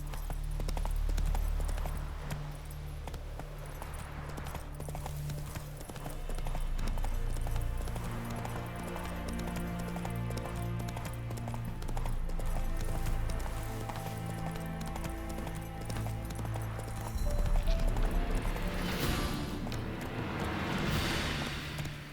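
Horse hooves gallop in The Witcher 3, a steady, close clip-clop rhythm that runs the whole stretch over layered game music, swelling louder near the end.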